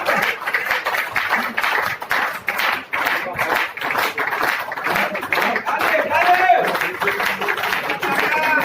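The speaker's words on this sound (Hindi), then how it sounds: "जोरदार तालियां दोस्तों," An audience claps at a corporate reward and recognition event in Goa, a loose, continuous patter of many hands under a busy crowd hum and some talking.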